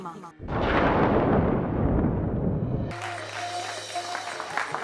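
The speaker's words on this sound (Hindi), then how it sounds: "आप लोगों की तालियों के लिए बहुत बहुत शुक्रिया" Audience applause swells suddenly into a loud, dense roar of clapping that fades after a couple of seconds as music and voices take over.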